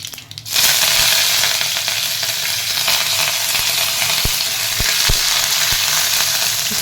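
Curry leaves and dried red chillies frying in hot tempering oil, a loud, dense, continuous sizzle that bursts in abruptly at the start, with a few sharp pops and crackles close by.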